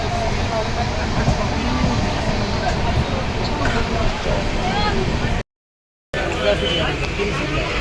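Inside a moving train on the way to Puri, a steady rumble and rattle of the carriage runs under people talking, cut by a short gap of silence near the end.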